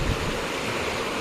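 A river in a hilly jungle area after a landslide, its flow now reduced, rushes in a steady broadband wash, close and continuous, with no voices.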